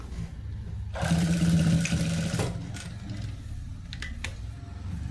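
A sewing machine runs in a short burst while stitching a blouse, a steady mechanical whir that rises loud for about a second and a half, then drops back to quieter handling noises and faint clicks.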